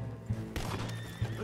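A horse's hooves clop rapidly in a galloping rhythm, with a brief whinny, over a low rumbling background, in the video game Red Dead Redemption 2.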